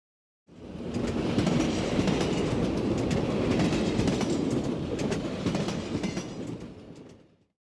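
A train rolls steadily along the rails with a continuous rumbling roar and faint clicking, fading in and out, no voices.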